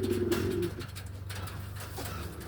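Racing pigeons in a loft give a low, throaty coo, close and clear, followed by quieter rustling and faint background noise.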